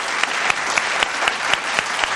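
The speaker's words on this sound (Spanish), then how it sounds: "un aplauso para Mirenchu, este Christmas." Audience applause for a Christmas card from a fan, a steady wash of clapping with sharp claps rising about four times a second, fairly close and full, with no talking over it.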